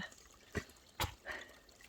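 A small water source beside a high mountain trail on the Colorado Trail between Tennessee Pass and Timberline Lakes, close and faint. Three soft drips and splashes fall about half a second apart over a quiet background.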